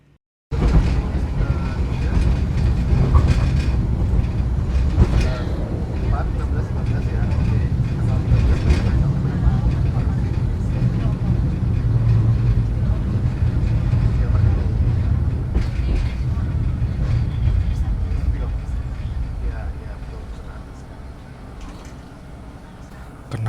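A train rumbles and clatters loudly for a long stretch, then the noise eases off as it brakes suddenly and slows near Kalipotri station in Indonesia, with voices talking faintly at times.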